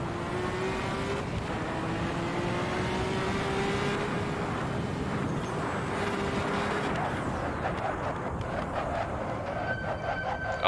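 Porsche 917/30 race car in Assetto Corsa, engine holding a steady whine that slowly climbs in pitch, then choppy higher-pitched bursts toward the end over a constant low rumble.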